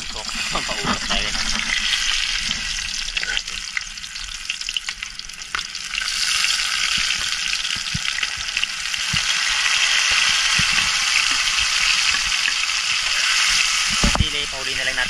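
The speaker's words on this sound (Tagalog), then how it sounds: "ipisa na natin yung ating sigad-sigad na nakuha kanina dyan" Shellfish frying in a pan with garlic, tomato, onion, pepper and labuyo chili, a loud continuous sizzle with bursts of stirring and scraping, close up and without talk.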